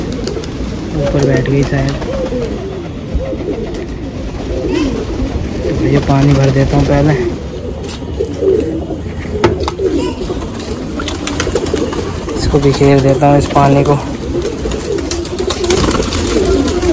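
Punjabi pigeons coo on a rooftop in several rounded, repeating bursts. Someone talks over them and moves around nearby, and the cooing comes back again and again under his voice.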